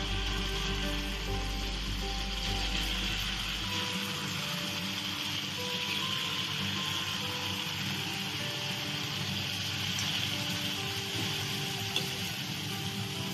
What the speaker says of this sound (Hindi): हमें लो मीडियम फ्लेम पर ही जलेबियों को तलना है